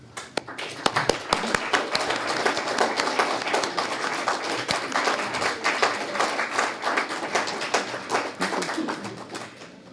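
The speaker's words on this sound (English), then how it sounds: "we would all like to give you a round of applause" Graduation and awards ceremony crowd applauds for several seconds, with distinct individual claps standing out near the start before merging into a fuller, uneven round of clapping that holds at moderate loudness.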